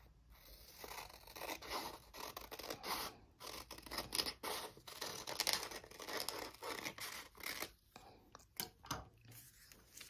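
Scissors snipping through two stacked sheets of paper to cut out shapes, with repeated close crisp cuts and rustling of the paper and faint whispery handling.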